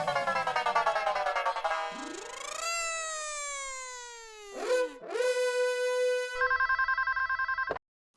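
A telephone ringing in a comedic TV household scene: a musical ringtone of sweeping, warbling tones, with a buzzy repeating ring pattern near the end, loud and close, with no talk.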